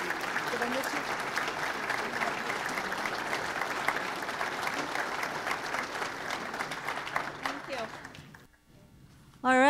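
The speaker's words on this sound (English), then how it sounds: "let's give them a round of applause." A large audience at a monthly society program applauds steadily for several seconds, dense clapping that fades out near the end before a voice begins.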